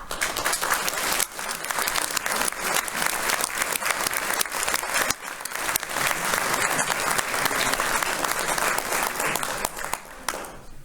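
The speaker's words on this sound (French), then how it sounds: "et les applaudir." A concert audience in Montrichard applauds steadily and loudly, dense clapping filling the whole stretch with a short dip midway and a slight fade at the end.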